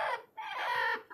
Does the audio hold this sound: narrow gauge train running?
no